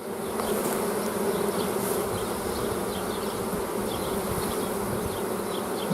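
Dense, continuous buzzing of many honeybees close up at an open hive, a steady droning swarm with no voices.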